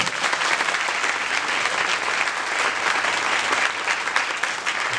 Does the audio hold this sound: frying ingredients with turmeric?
no